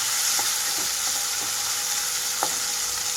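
Chopped tomatoes fry in a hot pan for gongura chutney with a steady, bright sizzle, broken by a few soft clicks and taps of stirring.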